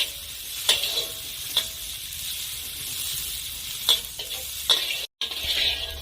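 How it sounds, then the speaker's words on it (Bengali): Cashews and raisins sizzling steadily in hot oil in a karai, with a spatula scraping and clinking against the pan at irregular intervals, close by and continuous. "নেড়ে চেড়ে হালকা করে ভেজে নেব।"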